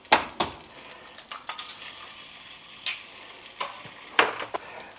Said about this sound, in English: we'll turn the fire back on and see how the egg does now. Put a little oil in it